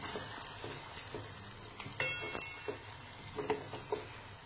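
Whole spices sizzle in hot oil as a tempering for dal tadka, a steady close frying hiss with sharper crackles and pops scattered throughout and no talking.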